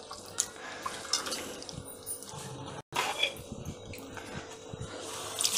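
Cowpea (chavli) pods being rubbed and washed by hand in water, with steady splashing, trickling and dripping close up, one brief break partway through.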